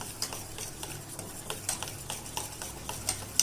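A mango custard mixture is stirred, producing quiet, rapid ticking and scraping strokes of a spoon against the bowl in an even rhythm, close but faint.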